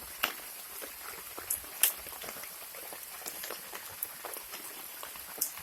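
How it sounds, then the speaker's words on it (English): Rain falls steadily as a soft continuous hiss, with scattered brighter drips and drops tapping nearby on a surface at irregular intervals, no voices. "more rain."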